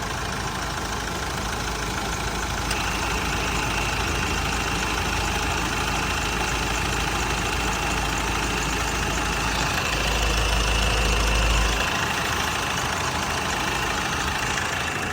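A 2013 Mahindra Scorpio VLX engine idles steadily up close, a continuous low rumble that swells slightly for a moment near the end, with no talking.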